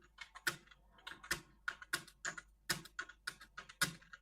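Typing on a computer keyboard during a Hindi Mangal typing lesson: a quiet, irregular run of crisp key clicks with uneven gaps, close up and with no talking.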